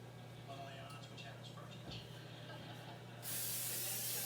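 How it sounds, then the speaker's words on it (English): Cooking spray hisses into a pan for French fries in a home kitchen, a quiet steady spray over a low hum that ends in a louder, brighter burst. "let's spray the pan for the French fries"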